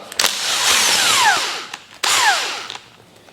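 A power tool loosens a fork bolt on a 1983 Yamaha DT80 enduro motorcycle, two loud close bursts of whirring and rattling, each winding down in pitch before stopping.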